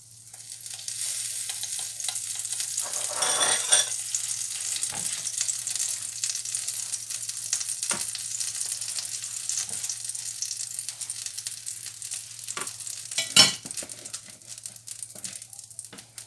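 Crêpe batter sizzling in a hot pan, a steady frying hiss that persists throughout, with a few scraping and stirring clatters along the way and no talk.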